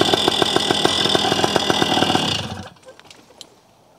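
A Fly Products Vertigo trike engine runs at idle with no throttle, a loud, steady rapid chatter that cuts off abruptly after about two and a half seconds, leaving near silence.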